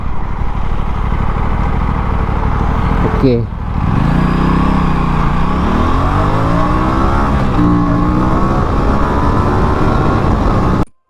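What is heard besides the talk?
Aprilia RS 457 motorcycle accelerating in a 0 to 100 test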